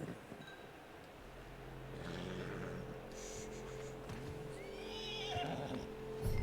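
A horse whinnies a few times amid game-like ambience in Red Dead Redemption 2, with a soft low engine hum underneath.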